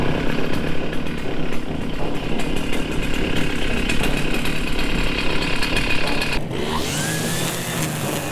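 A motorised grass trimmer cuts through tall overgrown grass in an abandoned village, a loud continuous buzzing whine close by, briefly shifting as the engine load changes near the end.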